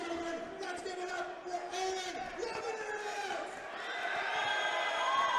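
Crowd cheering and shouting at an amateur MMA fight, a continuous dense roar of voices building slightly louder toward the end, with a commentator talking over it.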